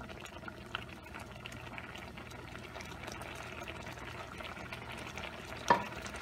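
Heavy cream and lemon garlic shrimp scampi sauce simmering in a pan, a faint steady bubbling and sizzle with a soft stir, then one brief sharp clink near the end.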